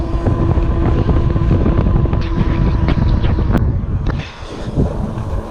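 Strong wind roars over the microphone of a rider on a QuietKat Apex e-bike on a woodland road, a loud, steady buffeting rumble that eases briefly near the end, with no talking.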